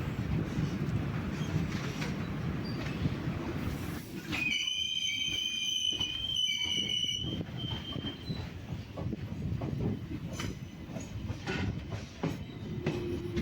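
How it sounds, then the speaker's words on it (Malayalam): Passenger intercity sleeper-class train on the Nagercoil line in Tamil Nadu, rumbling steadily on the track near a station, with a shrill burst of wheel squeal partway through over the continuous rolling noise. "അടുത്ത സ്റ്റേഷനിലേക്ക് എത്തിക്കൊണ്ടിരിക്കുക നമ്മുടെ ട്രെയിന്"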